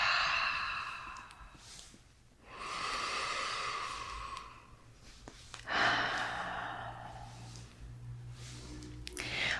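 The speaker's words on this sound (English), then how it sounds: "Making sure you're taking big, deep inhales through the nose" Slow deep breathing during a morning stretch in bed, with long inhales through the nose and exhales out the mouth, several breath cycles close and fairly loud, alone without speech.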